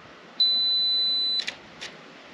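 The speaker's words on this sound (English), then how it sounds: "2 second timer." A camera's two-second self-timer during outdoor landscape shooting in New Zealand: one steady high beep tone lasting about a second, then two short chirps, faint and isolated against quiet background with no speech.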